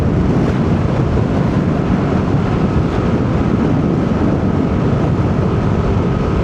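Steady wind rushes loudly and continuously across the microphone of a Yamaha Nmax V3 scooter during a road trip in Bicol, a dense, unbroken roar with no voices.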